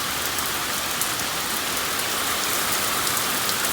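Heavy rain falls steadily in a dense, unbroken hiss, on the second straight day of downpour, around a Ram 2500 pickup fitted with a RetraxPro XR tonneau cover; no voices.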